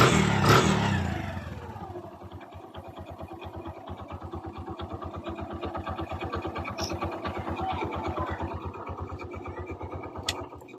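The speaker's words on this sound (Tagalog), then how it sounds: "Balik brand new na ang tunog ng kanyang makina guys" A Kawasaki Bajaj CT 100 motorcycle engine idles after a timing chain replacement, a steady rapid putter with a faint mechanical tick, close by and running alone after a brief louder start.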